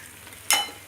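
Ghee hits mixed vegetables in a hot pan with one sudden bright sizzle that fades quickly over a quiet kitchen background.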